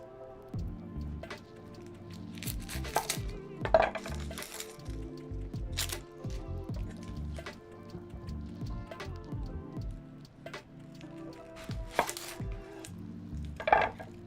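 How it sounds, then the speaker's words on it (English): An onion is diced with a knife on a board, a series of uneven chops and taps over a quiet kitchen background, with a few louder knocks. "let's get this onion diced up and ready to roll here"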